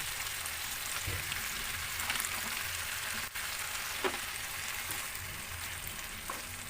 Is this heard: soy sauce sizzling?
yes